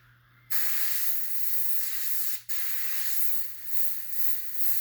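An airbrush sprays paint onto a T-shirt while a realistic tiger is painted, giving a steady close hiss that starts abruptly, pauses once briefly, then continues with slight swells, over a low constant hum.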